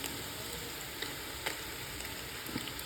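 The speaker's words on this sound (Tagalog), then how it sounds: "So, karon i-fry na siya." Giant mushrooms frying in a pan with a splash of wine, giving a steady, even sizzle throughout with a few soft pops and crackles standing out; close and moderately loud, no voices.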